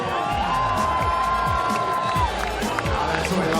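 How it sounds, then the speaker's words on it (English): A large arena crowd at a STIHL Timbersports woodchopping competition in Australia cheers and whoops loudly and steadily, with an announcer's voice and shouts blending into the roar. "give us the biggest cheer of your life right now"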